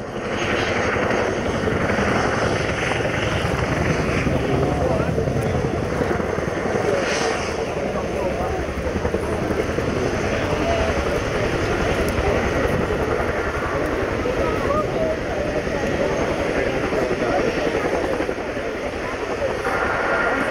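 A military helicopter makes a two-wheeled landing demonstration at a navy air show, its loud continuous rotor and engine roar filling the air steadily throughout while an announcer's voice talks over it.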